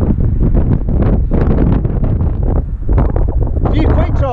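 Strong wind gusts buffet the microphone at a limestone climbing crag, a loud, continuous low roar with rushing bursts that nearly bury a voice talking throughout.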